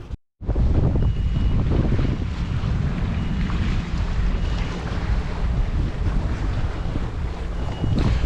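A sailboat under way on open water with the engine out of action, steady wind buffeting the microphone and a continuous rush of water and hull noise close by, with no talk.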